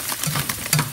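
Garlic sizzles and crackles in hot oil as it is stirred in a pan for fish escabeche, close and crisp, with no talk.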